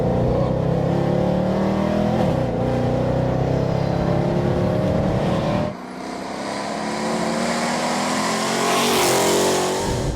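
A 780 bhp Weistec-tuned supercharged Mercedes C63 accelerates hard, its engine climbing loudly in pitch, then shifting and pulling again with a rising whine. The sound is heard from inside the car with no speech.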